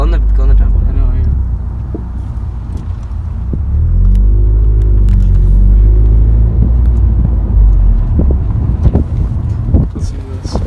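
A 2018 Honda Civic Si fitted with a GReddy Supreme SP exhaust rumbles loudly and steadily. Wind buffets the microphone throughout, and people talk in the background.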